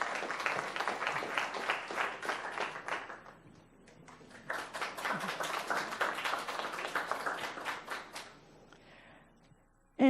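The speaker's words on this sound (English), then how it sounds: "Let's give them a round of applause." Applause at a Palm Beach County schools recognition ceremony for Holocaust educators: steady crowd clapping that dips briefly near the middle, swells again, then breaks off before a sharp sound at the very end.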